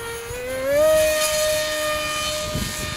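Small RC glider converted from a Lidl model, powered by a tiny 2206 2400 kV electric motor on a 1300 3S battery, flying overhead with a high, steady whine that rises in pitch, then holds.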